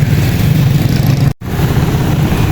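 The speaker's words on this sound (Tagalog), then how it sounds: "Daming sasakyan dito ah." Steady roar of engines and passing vehicles, loud and close, with a brief sharp dropout midway.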